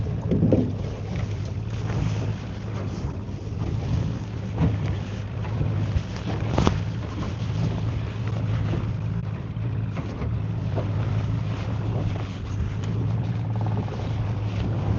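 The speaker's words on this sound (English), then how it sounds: "We got the wind coming back right now" Wind rushes steadily over a lake around a small fishing boat during high-speed trolling at Lake Elwell, a constant loud roar buffeting the microphone with a low motor hum underneath and occasional sharper gusts, no talking.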